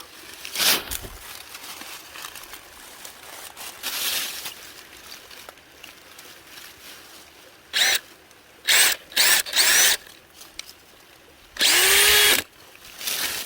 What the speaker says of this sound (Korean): 자 이렇게 해서 한 나무를 세 개를 뚫어서 완료를 했습니다.